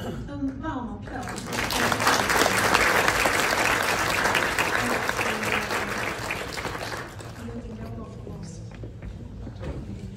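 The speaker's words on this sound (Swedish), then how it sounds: "En varm applåd." A warm burst of applause from a crowd, swelling quickly and holding steady for several seconds before tapering off, with faint talk at the edges.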